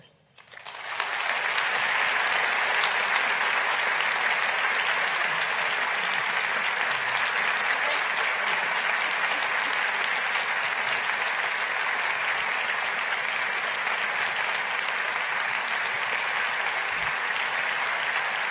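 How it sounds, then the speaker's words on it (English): An audience gives Eric Holder a standing ovation, with loud, dense clapping that swells within the first second and holds steady and strong for nearly twenty seconds, no voices standing out. "I'm assuming that was a standing ovation"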